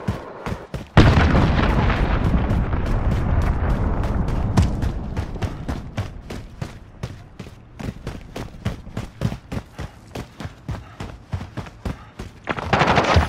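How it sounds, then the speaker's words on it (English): Heavy booming blasts from a cruise missile strike in Modern Warfare 2019 on the Oil Rig map open into dense, rapid gunfire, which thins into a long run of sharp, evenly spaced shots before another loud burst closes. "Allied cruise missile on the way."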